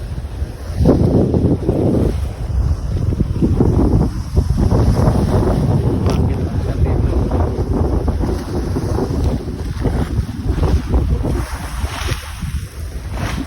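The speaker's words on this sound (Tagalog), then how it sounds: "Grabe ng alon mga katuda." Strong sea waves surge and crash around a small fishing boat as a typhoon approaches, with heavy wind buffeting the microphone in a loud, continuous roar.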